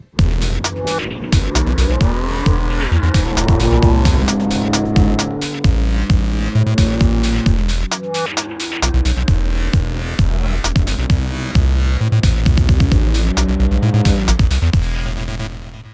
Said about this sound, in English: that's a Ranger Raptor behind me being driven by Gareth Woolridge